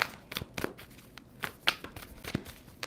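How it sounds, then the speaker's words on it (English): A deck of tarot cards is shuffled by hand in a run of quick, crisp riffling bursts spaced irregularly, close by and fairly quiet, with no voice over it. "2 more shuffles for Libra."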